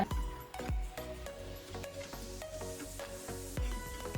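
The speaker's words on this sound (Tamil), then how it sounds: "இப்போ எள்ளை நாங்கள் நல்லா வறுத்தெடுப்போம்" Sesame seeds dry-roasting in a pan over medium heat, a faint soft sizzle and rustle with repeated clanks of a spoon or spatula stirring against the pan.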